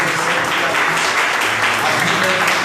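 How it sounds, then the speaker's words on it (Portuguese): A church congregation at an evening service applauds the mothers, steady and loud clapping filling the whole short stretch without a break, with faint voices mixed in. "eu gostaria que nessa noite nós dessemos uma salva de palmas para as nossas mamães"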